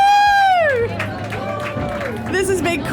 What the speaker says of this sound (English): People are clapping and cheering.